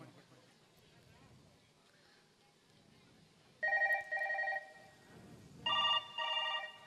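A phone ringing tone sounds in two loud double-pulse bursts near the end of the clip, following a stretch of quiet murmuring voices.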